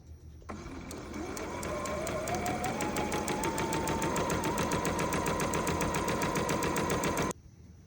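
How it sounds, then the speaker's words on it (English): A sewing machine stitches the side seams of a romper, starting abruptly and running as a fast, steady, close mechanical whirr with rapid rhythmic clatter for about seven seconds before stopping suddenly. "sew the front to the back at the side seams to check, and the inseam to check the fit"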